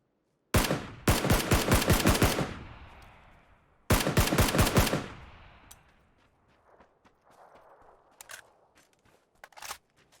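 An MG3 machine gun fires in PUBG, two loud close bursts of rapid shots with ringing tails, followed by scattered fainter distant shots and clatter.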